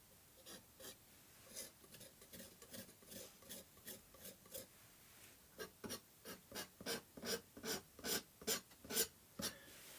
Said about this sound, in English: Where I'm gonna do some little scratches at.